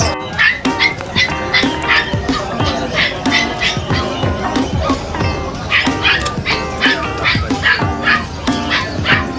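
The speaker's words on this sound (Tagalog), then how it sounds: "Ba, kakaiba tong aso na to." An Irish Setter barks and yips in repeated short bursts at close range, mixed with whimpers and other busy background noise, with people talking nearby at a shop selling pets.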